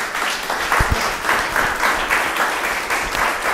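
An audience at a Clermont-Ferrand evening event claps for a presenter, producing a loud, continuous wash of applause from many hands that holds steady the whole way, with a couple of louder individual claps early on.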